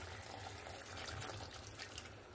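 Water poured into a pan of simmering drumstick (moringa) and potato curry, a steady soft splashing wash of liquid running for a couple of seconds, close and fairly quiet, with no talking.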